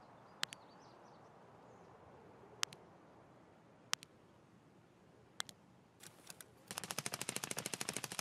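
Video game gunfire: a few isolated, sharp distant shots spaced a second or so apart, then a rapid close burst of automatic fire with no voices.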